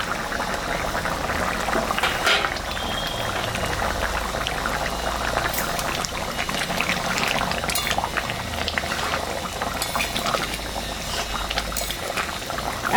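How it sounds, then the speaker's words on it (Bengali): Chicken curry broth, a thin country-chicken gravy, boils steadily in a covered pot, a dense continuous bubbling and simmering hiss that holds evenly from start to finish with no voices over it. "10 মিনিট ঝোলটা ফুটলে নামাই দেব, তাহলে খেতে স্বাদ হবে।"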